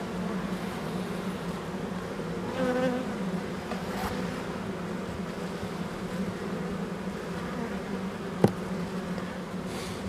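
Honeybees buzz around a hive, a soft continuous hum of many wings close by, with individual bees passing near and one brief sharp tap partway through.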